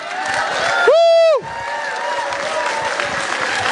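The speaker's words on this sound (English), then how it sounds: "give one more round of applause to Imam Saif for that beautiful words" A crowd at Karmel Mall in Minnesota claps steadily throughout, briefly interrupted by a loud tonal whistle or horn-like blast, then the applause carries on at an even level.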